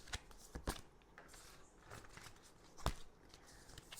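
Tarot cards are shuffled by hand in a series of soft papery riffles and flicks, with a few sharper snaps, close and fairly quiet with no talking.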